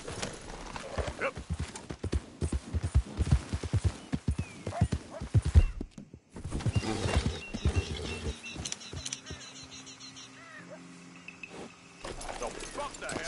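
Horse hooves clip-clop at a gallop in Red Dead Redemption 2, a steady rhythmic pounding with a brief neigh, under a voice and game sounds that drop out for a moment midway.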